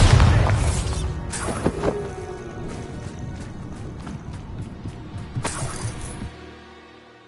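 A Bombarda spell explosion in Hogwarts Legacy sounds as a heavy close boom with crackling debris, followed by several sharper impacts and a final burst before the rumble fades out.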